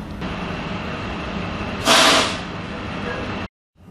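A large truck rumbles past close by and halts, with a loud hissing burst like air brakes near the middle over steady low engine noise, then the sound cuts out abruptly.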